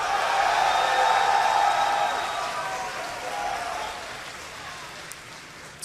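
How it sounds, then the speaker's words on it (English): A large crowd at a StarCraft esports semifinal in Austin cheers and applauds loudly and steadily, a broad roar that slowly eases off over several seconds. "give a huge cheer for SKMC"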